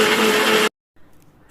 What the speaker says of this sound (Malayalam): ഇതെല്ലാം കൂടി മിക്സ് ചെയ്തിട്ട് കുറച്ച് ഉപ്പും കൂടി ഇട്ടിട്ട് മിക്സിയിലിട്ട് അടിക്കുകയാണ്